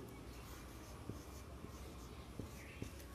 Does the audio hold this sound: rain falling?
no